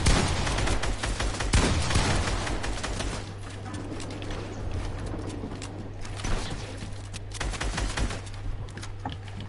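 Rapid assault rifle spam fire in a Fortnite match, a dense stream of overlapping gunshots and mechanical clatter that runs through the whole stretch at moderate loudness, with no talk over it.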